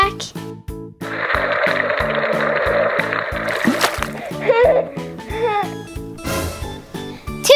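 A big cannonball jump splash into a pool, a rush of spray and sloshing that lasts a few seconds, with a voice and music playing throughout.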